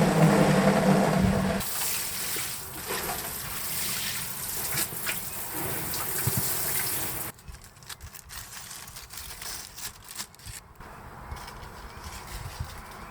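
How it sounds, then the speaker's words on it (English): Water splashes and trickles onto soil in raised garden beds in early spring, a hose spray shifting in strength and pausing, with outdoor background noise. "So I want to make sure to water the raised beds even though I don't have any plants"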